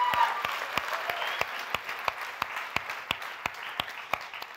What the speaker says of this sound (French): vous pouvez l'applaudir, applaudissez-le